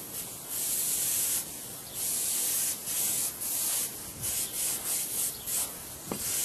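An airbrush or spray gun lays a wet coat of paint on a model P-47 canopy, giving a steady close hiss in repeated passes with brief pulsing breaks.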